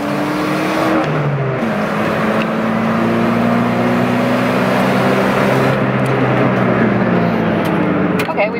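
A car driven hard for timed laps roars steadily from inside the cabin, its engine note rising and shifting as it accelerates, loud and constant, with people talking over it.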